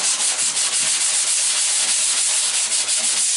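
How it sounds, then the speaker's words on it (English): An MGB passenger side door on a 1974 1/2 MG is sanded by hand with a steady, rhythmic back-and-forth scraping of abrasive on the panel, close and loud with no talk. "or you just watch me sand."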